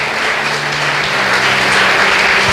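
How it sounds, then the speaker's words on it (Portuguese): A large crowd at a church conference applauds loudly and steadily, a dense continuous wash of clapping throughout. "Você pode dar uma salva de palmas para Jesus?"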